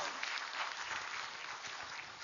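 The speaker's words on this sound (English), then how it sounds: "A big round of applause again for Dr." Sustained audience applause at a medical oration honouring a psychiatrist, dense steady clapping from a large hall crowd, continuous and even throughout, with no speech over it.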